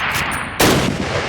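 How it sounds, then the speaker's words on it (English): A Springfield rifle shot in the World War II shooter Call of Duty, one loud sharp blast up close with a short echoing tail and no talking. "Turn to the left, move to the fence, and fire 2 rounds at your target."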